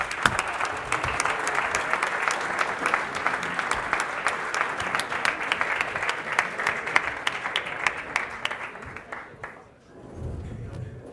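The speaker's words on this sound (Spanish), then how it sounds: "un aplauso por favor" Sustained audience applause fills a morning event welcoming a guest, dense and steady for about nine seconds before thinning out and fading, with a faint low rumble of the room left afterward.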